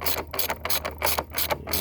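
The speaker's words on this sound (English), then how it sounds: "you get a ratchet like mine that's just starting to just destroy itself and about fall apart. There with the click, click," A worn, failing ratchet clicks in quick bursts while tightening a bolt on a Jeep Wrangler battery setup, loud close rhythmic pawl clicks in several short runs with brief pauses between.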